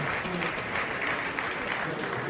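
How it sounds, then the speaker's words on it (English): Audience applause at a poker tournament table, steady dense clapping from a crowd throughout, moderately loud and continuous without a clear break. "Big round of applause from our very appreciative audience"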